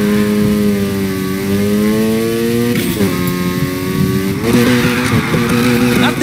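A car drifting in the video game Need for Speed Heat, with a loud engine holding high revs and shifting pitch, layered with tire squeal. A gear change or rev drop comes partway through.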